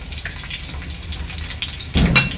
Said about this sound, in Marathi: तेल आता इथे चांगलं गरम झालेलं आहे। यामध्ये टाकणार मी लसूण, कढीपत्ता।